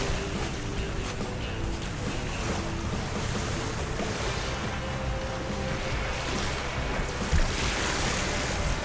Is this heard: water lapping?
yes